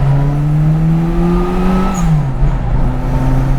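A turbocharged 1979 Mini Special Turbo engine with fuel injection pulls hard and climbs in pitch, with a steady whirring whine rising over the roar, then drops back briefly before building again.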